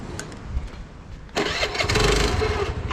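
A rented motorbike in South Goa, India, which starts poorly, cranks and then catches, roaring into a loud, rough idle nearby after a quieter stretch of turning over.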